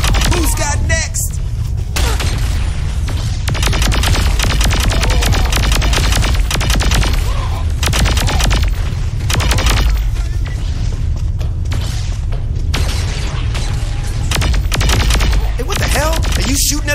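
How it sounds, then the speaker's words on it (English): Constant explosions and gunfire rumble through the video game Saints Row 4, a loud, dense barrage of booms and bursts that continues without pause. "With all these explosions, either it's under attack or it's coming apart."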